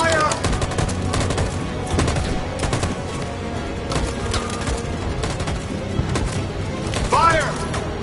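A gunfire volley in Detroit: Become Human, with dense overlapping shots crackling steadily amid a busy, chaotic scene, and voices shouting through it.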